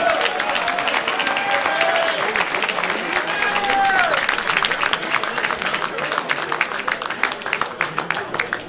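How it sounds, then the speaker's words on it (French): Spectators at a USSU versus FC Metz 2 football match applaud the players in a sustained, dense patter of clapping that carries on throughout, with voices and calls rising over it. "Allez, on applaudit les joueurs, on applaudit les joueurs"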